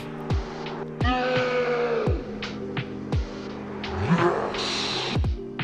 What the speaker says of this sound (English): lowering the pitch first by an octave with warp disabled, which sounded like this